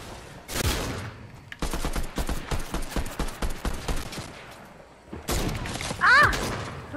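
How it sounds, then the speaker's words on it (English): Rapid bursts of enemy gunfire in Fortnite crackle in a fast, close volley for several seconds, between sharper isolated shots and in-game clatter. "Oh, crap, he's shooting me."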